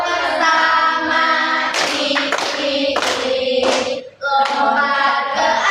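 A class of children claps hands together in rhythmic groups of beats alongside a sung tune, loud and close, with a brief pause before the clapping resumes.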